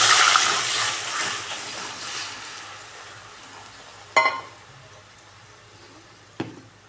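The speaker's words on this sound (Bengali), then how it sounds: "এবার আমি এর মধ্যে অ্যাড করে দিচ্ছি সেদ্ধ করে রাখা ডালটা" Boiled lentils pour into a hot pan of tempered oil with asafoetida and green chilli, hissing and sizzling loudly at first and then fading to a simmer, with a couple of sharp clinks from a utensil.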